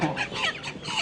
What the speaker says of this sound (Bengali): ভাইজান এইটা বরিশালের মুরগি